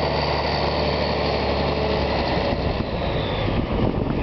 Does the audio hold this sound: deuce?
yes